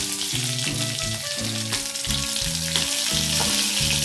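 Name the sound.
cumin seeds and slit green chili sizzling in hot oil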